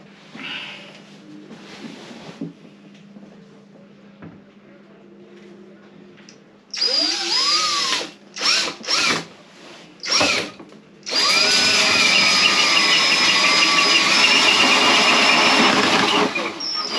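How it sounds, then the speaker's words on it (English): A power drill fitted with a hole cutter bores through a boat's surface, starting with short whining bursts that stop and restart, then running steadily and loudly; faint background noise comes before it. "I've scrounged one off of another boat, so I'll be able to drill the hole"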